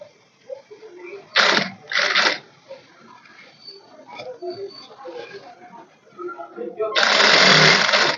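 A sewing machine stitches the fall onto a saree in short bursts, two quick runs early and a longer steady run at the end, with someone talking between them.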